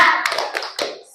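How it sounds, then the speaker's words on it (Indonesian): Children in an Indonesian primary classroom perform a 'tepuk semangat' clapping chant as an ice-breaker, with a few sharp, close claps breaking through their voices over about a second. "Oke, tepuk semangat."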